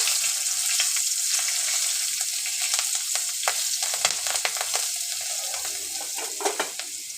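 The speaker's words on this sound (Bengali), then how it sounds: "ওই তেলেই একটু কালো জিরে ফোড়ন দেব" Nigella seeds and green chillies temper in hot oil for a pabda fish curry, giving a crackling sizzle dotted with stirring clicks and spits, steady and close.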